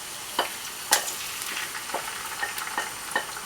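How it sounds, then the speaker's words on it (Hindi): Onions and ginger-garlic paste frying in oil in a pan, a steady close sizzle broken by sharp crackles and pops every half second or so, no talking. "ऑयल के साथ ही आप अपने अनियंस और अदरक लहसुन का जो पेस्ट है वो दोनों इकट्ठे डाल लें।"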